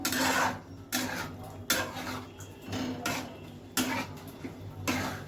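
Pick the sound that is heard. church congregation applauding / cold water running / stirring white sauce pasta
stirring white sauce pasta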